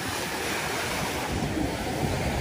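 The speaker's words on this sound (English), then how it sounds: "It's when you get out and this freaking wind is blowing." Cold wind blowing hard across open water near the surf, a steady broadband roar with gusty buffeting and a close, continuous rush over faint waves, no voices.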